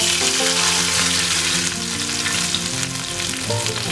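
Mustard seeds, fenugreek, dried red chillies and curry leaves crackle and sizzle in hot coconut oil for a Kerala chicken curry tempering, a loud, dense, continuous spitting fry with bright popping throughout and no voices.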